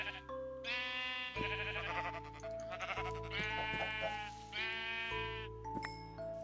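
Sheep bleat repeatedly in Minecraft, several loud, harmonic blocky baas following one another over a steady game background hum, with no talking.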